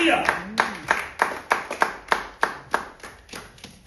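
A church congregation claps in a steady, even rhythm, roughly three claps per second, close and sharp, with a voice speaking briefly at the start.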